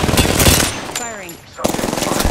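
Automatic gunfire in the video game Apex Legends, loud rapid bursts that stop for a moment and then resume, with a brief electronic whine in the gap.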